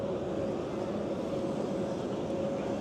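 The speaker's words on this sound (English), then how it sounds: "So here's the Starlux plane." A Starlux passenger jet at the Singapore Airshow gives off a steady, moderately loud engine rumble with a constant hum, continuous and unbroken throughout.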